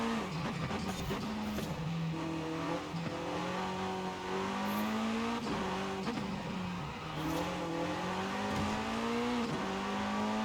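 An S1-class car in Forza Horizon 5 roars loudly at full throttle, its engine pitch climbing and dropping sharply through repeated gear shifts and revs, with no voices.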